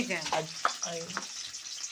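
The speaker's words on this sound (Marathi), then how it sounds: "आता ह्या मिरच्या व्यवस्थित परतून घ्यायच्या बघा" Green chillies fry in hot oil in a kadhai, giving a soft crackling sizzle, with a voice speaking faintly over it.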